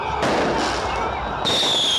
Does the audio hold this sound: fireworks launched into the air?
yes